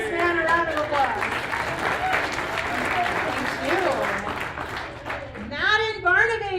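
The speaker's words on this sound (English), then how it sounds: "Give this man a round of applause." An audience at a National Civics Bee event in Buena Vista, Colorado breaks into steady applause that carries throughout, with a voice talking over the clapping near the end.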